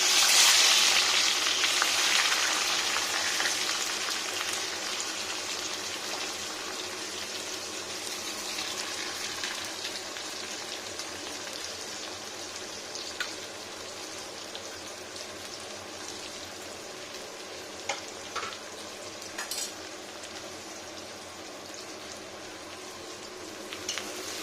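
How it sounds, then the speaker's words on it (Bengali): Onions deep frying in oil for a chicken and potato-cauliflower curry, a steady, close hissing sizzle with a few faint pops and crackles, continuous throughout without any voices. "ডুবো তেলে পেঁয়াজটা পুরো ভাজা হচ্ছে"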